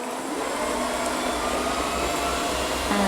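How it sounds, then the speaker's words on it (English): An Ecovacs Deebot M81Pro robot vacuum, fitted with its water-filled mopping attachment, runs with a steady, loud, close whirring hum that holds unbroken throughout, without talk. "pop this onto the robot vac, where it just snaps into place. Now set it to work."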